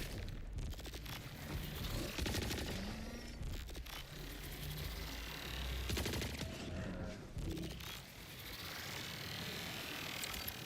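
Rapid bursts of elemental gunfire from Borderlands 4, with dense, overlapping shots and impacts that carry on steadily for about ten seconds amid a busy game mix.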